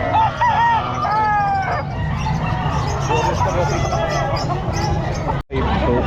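Roosters and hens at a busy pet market in Calumpit, with bird calls and a crow rising over steady crowd babble and bargaining voices close by.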